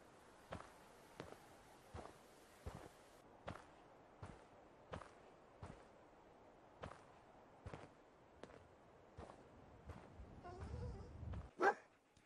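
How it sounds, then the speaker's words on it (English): Regular soft thumping steps with faint dog sounds in a video game, ending in a brief rustling burst and a sharp yelp-like sound. "It sounds like a doggy."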